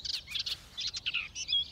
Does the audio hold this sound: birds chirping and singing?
yes